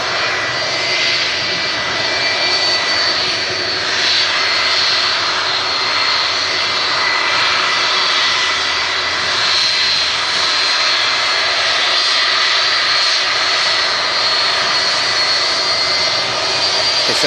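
A jet airliner with Rolls-Royce RB211 engines rolls out after touchdown at Manchester Airport, its engines roaring loud and steady with a constant high whine throughout, no voices over it.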